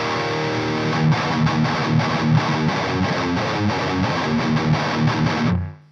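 Heavily distorted electric guitar through an overdrive pedal with the drive turned up, playing a dense, saturated riff for several seconds, loud and steady, cutting off abruptly at the end.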